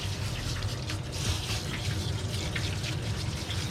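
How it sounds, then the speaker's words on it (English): Tap water runs steadily over a dog named Oliver being bathed in a tub at home, a continuous close splashing stream with no pauses. "This water feels weird running over their body, right?"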